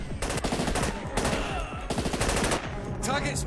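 Rapid bursts of automatic gunfire crackle in a close firefight in SAS: Secure Tomorrow, several loud volleys of repeated shots separated by short pauses.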